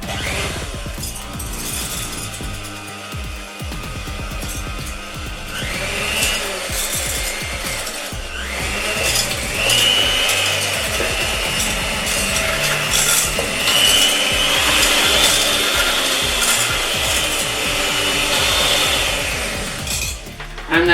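Cream cheese being mixed into a paste for a no-bake cheesecake, a sustained rough rubbing and scraping that drones on for about twenty seconds, loud and close, growing slightly busier partway through, with no voices.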